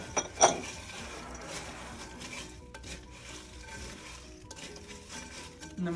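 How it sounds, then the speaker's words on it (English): Chex Mix is stirred in a bowl, making a dry, continuous rustling and scraping with a sharp clink near the start and scattered rattles throughout, close and fairly quiet. "And then you just stir it."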